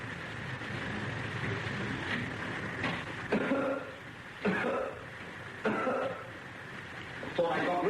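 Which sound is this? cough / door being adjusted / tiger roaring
cough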